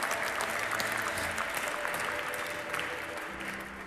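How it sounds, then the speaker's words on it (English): Steady applause from the audience at the Women's EHF EURO 2024 handball final tournament draw, a continuous moderate wash of clapping with no break, slightly softening toward the end. "This is your applause."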